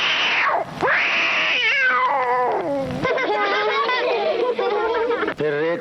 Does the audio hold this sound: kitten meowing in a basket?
yes